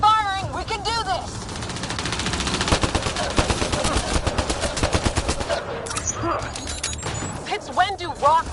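Rapid gunfire in the Mass Effect video game rattles on steadily in dense bursts, loud and continuous, while characters shout and talk over it near the start and end.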